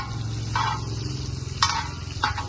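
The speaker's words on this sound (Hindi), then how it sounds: "हल्का हल्का मक्खन में करेंगे इन्हें फ्राई।" Capsicum and beans frying in butter over a low flame, a steady soft sizzle under repeated scraping strokes of a spatula stirring the pan.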